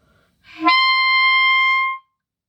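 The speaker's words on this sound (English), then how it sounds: "the altissimo D should sound like this" A single clarinet note in the altissimo register, a high D with a brief breathy onset that settles into a steady bright tone held for over a second before cutting off, close and solo.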